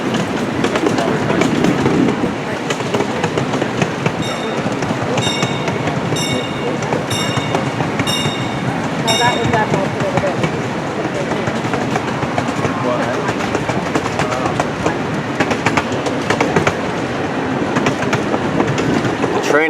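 At Knoebels amusement resort in Elysburg, Pennsylvania, a small park train runs close by with loud, continuous rumbling and clattering wheels. Repeated high squeals or bell-like tones sound early on, and people talk throughout.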